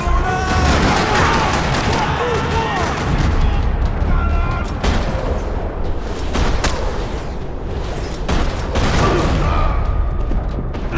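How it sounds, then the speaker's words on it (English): Dense gunfire rattles through a parking lot in the Max Payne video game: rapid bursts and sharp individual shots with heavy booms, loud and continuous throughout. "Another parking lot rattling with gunfire."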